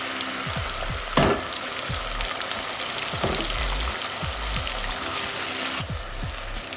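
Blended vegetables hit hot oil in a chicken stew pot with a loud, steady sizzle and frying crackle, punctuated by occasional clanks and stirring scrapes close by.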